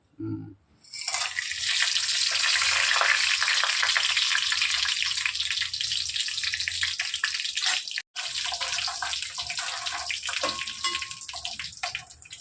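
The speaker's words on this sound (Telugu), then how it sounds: "అల్లం వెల్లుల్లి పేస్ట్ కాగిందా కాగింది కదా బిర్యానీ దినుసులు వేసేస్తా" Ginger garlic paste and biryani spices frying in hot oil for chicken biryani, a loud, steady sizzle that starts after a second and carries on to the end with only a brief break.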